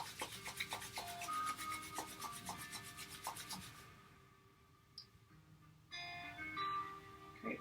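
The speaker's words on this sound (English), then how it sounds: "rubbing your hands together." Hands rubbed together in a steady rasping rhythm, close and soft, followed by a quieter stretch with a few faint rubs and clicks.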